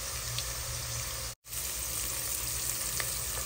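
Garlic sautéing in a pan for spaghetti, a dense, continuous sizzle with a brief cut in the middle.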